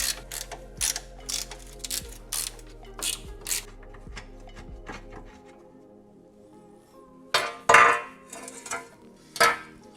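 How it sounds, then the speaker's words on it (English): A ratchet backs out the front subframe bolts on a BMW E36 M3 drift car, with rapid bursts of close clicking and metallic tool clinks, then a pause and a few sharper clanks. "Now we're just gonna take these front bolts out."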